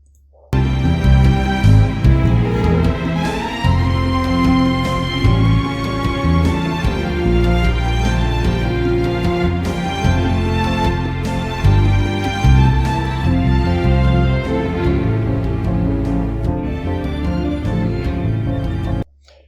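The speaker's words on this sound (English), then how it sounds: "this is the final mastered output" Final mastered pop cover arranged in MuseScore 4, full and loud from start to finish, with steady bass, chords and melody layered into a dense mix and no voices over it.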